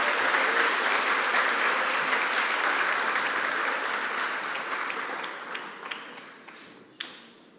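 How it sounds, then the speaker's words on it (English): Applause from a crowd at a speech competition as contestants and instructors walk onto the stage, steady at first and thinning out gradually until only a few scattered claps remain. "If we could please have one more round of applause as all of our contestants and their instructors come out to the"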